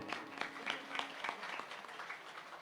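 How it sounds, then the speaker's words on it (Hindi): An audience at a Shrimad Bhagavat Katha religious discourse in a village claps in a faint, even rhythm, with sharp individual claps standing out from a soft, distant wash of applause. "एक बार तालियां बजाओ बामदेव के लिए"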